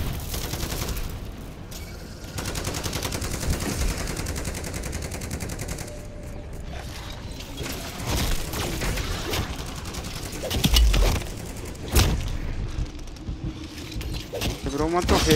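A turret in Call of Duty MW3 Zombies fires bursts of rapid gunfire at moderate distance, with sharp cracks scattered through a busy game mix and a person talking over the shooting.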